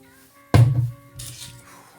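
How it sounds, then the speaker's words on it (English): Two quick hissing bursts of Jean Paul Gaultier Le Beau perfume from a spray atomizer: a sharp, louder puff followed a moment later by a softer, airy spray, close by, with no talking. "Now I'm gonna get a couple sprays of Beau"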